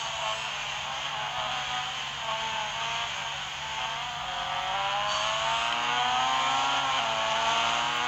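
Mazda RX-7 Spirit R (FD) rotary engine in the Real Racing 3 racing game, heard from the bumper view: a steady, loud, buzzing drone that climbs gradually in pitch over several seconds, with no talk.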